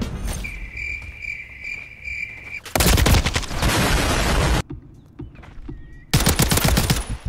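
Heavy bursts of automatic gunfire blast out in the video game Black Ops 6, loud sustained rattling volleys separated by a steady electronic tone and quieter gaps.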